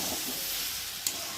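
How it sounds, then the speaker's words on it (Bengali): Fish head and Malabar spinach sizzle steadily in a frying pan with a constant hiss, broken by a single brief scrape as a utensil stirs the mixture. "একটু ভালো করে নেড়ে নেবো।"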